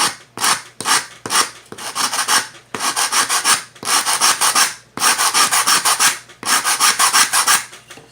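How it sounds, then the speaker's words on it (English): Sandpaper glued to a stick rubs back and forth over a dry wooden Native American flute, making loud, close rasping strokes in repeated bursts with short pauses between them. "I find when it's dry, it's easiest to just work with some sandpaper on a stick that's glued on."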